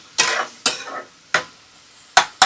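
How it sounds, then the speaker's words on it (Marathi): Tomatoes sauté in oil for Marathi masala rice, with four or five sharp sizzling bursts as the pan is stirred, each fading quickly into a quieter crackle. "मस्त परतून घ्यायचं तेलामध्ये छानपैकी."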